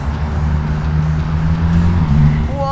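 A BMW Roadster engine pulls hard under acceleration, a loud, close, sustained drone with steady low harmonics that climb slightly in pitch over about three seconds.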